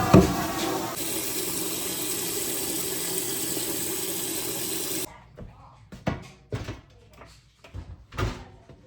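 Water runs steadily from a tap into a cooking pot for a beef tongue, a continuous rushing fill lasting about five seconds, followed by scattered knocks and clatter from handling the pot and kitchen items.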